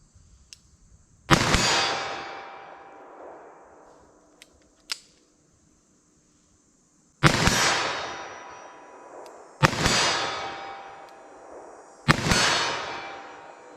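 Four loud, sharp 10mm revolver shots are fired at steel targets outdoors, each crack trailing off into a decaying ring, with a few faint metallic clicks between them.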